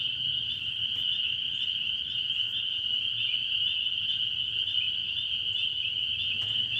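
Spring peeper frogs call at night as a dense, continuous high chorus from a distance, heard from a front porch. The sound is steady and moderately faint, with no talking.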